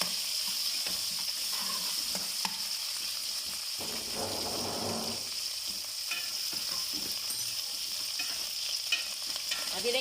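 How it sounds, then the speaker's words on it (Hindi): Chili paste fries in a pan for restaurant-style vegetable fried rice, giving a continuous close sizzle broken by scraping stirs and a brief louder burst of crackling as it hits the oil. "अब ये मिर्चों का भी पेस्ट हल्का सा डलेगा इसमें।"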